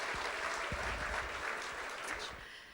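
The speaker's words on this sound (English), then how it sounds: "Give yourselves a round of applause for that, because that's brilliant." An audience at a business awards event for industry leaders breaks into sustained applause, with dense clapping throughout and some hands slightly closer and louder, tapering slightly at the close.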